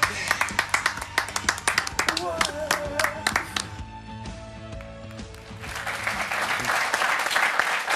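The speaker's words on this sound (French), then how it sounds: "On peut applaudir quand même." Applause in a French football television studio mixes with music and voices, sharp claps and hits up front, then a steadier wash of clapping near the end.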